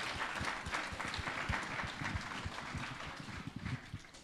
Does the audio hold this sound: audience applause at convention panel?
yes